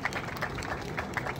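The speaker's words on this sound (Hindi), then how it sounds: "उनका भी जोरदार तालियों के साथ स्वागत करें" An audience at a police event claps to welcome officials. The applause is brief and moderately loud, with a patter of scattered claps from a crowd.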